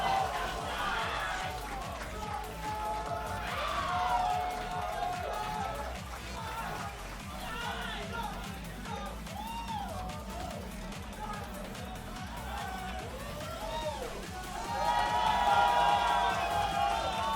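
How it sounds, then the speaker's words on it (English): Large crowd at a Dance Dance Revolution tournament bracket match cheering and whooping, swelling loudly at the start, staying noisy with excited chatter throughout, then rising again near the end. "There's going to be a gigantic cheer in a moment"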